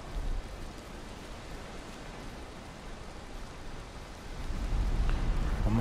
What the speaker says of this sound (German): Oh, wie das regnet.